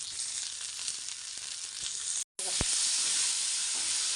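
Cluster beans sauté in a hot pan with garlic and salt, a loud, dense, even sizzle that drops out for a split second and then resumes with a single light clink; no voices.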